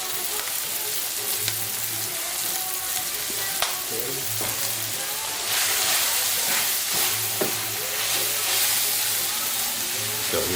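Shaved Brussels sprouts, seasoned with salt and black pepper, sizzle in a hot pan. A constant loud frying hiss is interrupted by repeated scraping and stirring strokes and occasional clicks, and a faint low hum runs through it.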